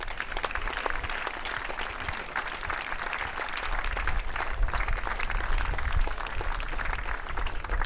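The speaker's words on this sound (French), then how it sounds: "Et vos applaudissements pour les athlètes." A large crowd applauds athletes at a university sporting event, steady dense clapping sustained throughout and growing slightly louder, with no voices standing out.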